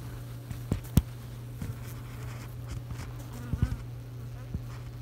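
Bees buzz in a steady, continuous hum, fairly close, with a few faint taps and knocks scattered through.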